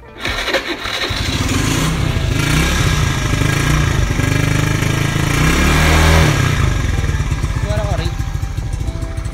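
A Beat motorcycle with a standard carburetor and stock exhaust starts after a brief pause, then idles with a close, loud, chugging putter and a few throttle blips. Voices murmur faintly underneath.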